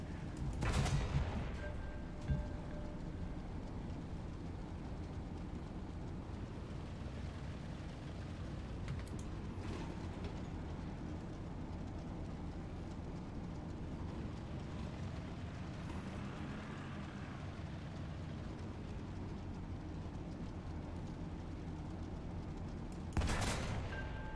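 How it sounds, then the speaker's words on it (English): Rocket artillery barrage from a Katyusha launcher in War Thunder, a sustained rumbling roar of continuous fire with loud sharp bursts at the start and again near the end. "Someone's using rockets."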